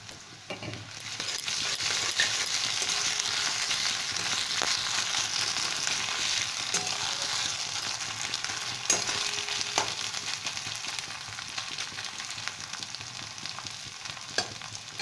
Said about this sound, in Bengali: এটাকে আবার একটুখানি আমি তেলে সাঁতলে নেব তেলটাকে আমি মিডিয়ামে রেখেছি